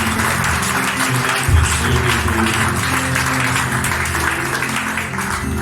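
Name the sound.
congregation applauding and cheering in church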